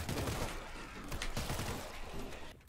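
Rapid gunfire in the World War Z zombie shooter, a dense stream of overlapping shots and mechanical clatter at moderate level throughout, without talk.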